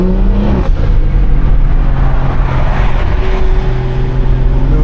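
A BMW 340i with a loud aftermarket exhaust, heard from inside the car during a drive, gives a loud, steady engine drone with a shift in pitch early on, then keeps droning with the note slowly changing.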